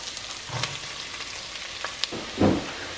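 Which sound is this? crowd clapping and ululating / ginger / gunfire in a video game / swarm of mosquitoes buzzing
ginger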